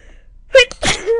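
A single sharp sneeze, close and loud, with a brief breathy intake before it and a short vocal trailing sound after.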